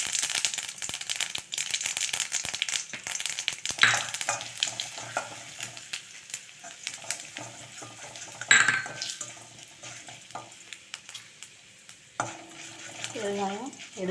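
Mustard seeds, urad dal and asafoetida crackle and fry in hot oil, a busy close sizzle with spoon stirring, a few sharp clinks and pops, fading quieter toward the end.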